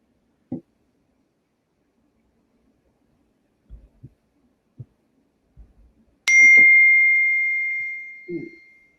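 After a few faint taps and clicks, a single loud electronic computer notification ding rings out and slowly fades, followed by a brief soft sound.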